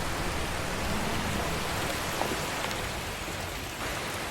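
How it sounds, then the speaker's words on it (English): Hail storm at Lake Tahoe, a dense, steady hiss and clatter of falling ice and rain pouring down continuously with no pauses and no voices. "The hail is getting heavier."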